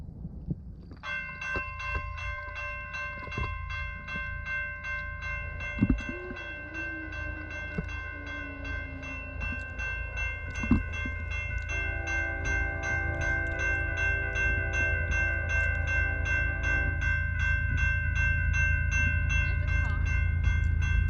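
A freight train of locomotives rolls steadily past with a constant low rumble and a long, sustained multi-tone horn blast that swells slightly over time.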